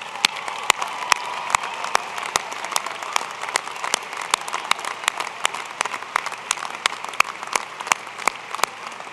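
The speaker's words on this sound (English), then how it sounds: "Let's give them a round of applause." Sustained applause from the audience at the University of Idaho winter commencement, a steady dense patter of many hands with sharp individual claps close by punctuating it throughout, no voices over it.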